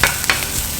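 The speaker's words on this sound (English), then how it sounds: "saute this real fast just so it doesn't get burned" Garlic and browned shallots sauté in a pan with a loud, close, steady sizzle, punctuated by a few quick scraping stirs.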